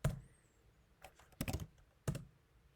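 Numbers typed on a computer keyboard: a few close, quiet key taps in small clusters, the last a single clack, with no voices.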